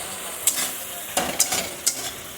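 A spoonful of cumin paste fries in a pan while a spatula stirs it, for a sour chunu fish curry: a soft, steady sizzle broken by several sharp scraping strokes, close and clear.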